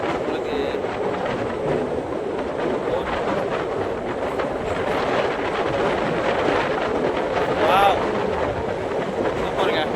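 A train rolls steadily across the new Pamban railway bridge between Rameswaram and Mandapam, a continuous rumbling roar with faint clatter and wind buffeting, heard up close from on board, with a voice talking over it.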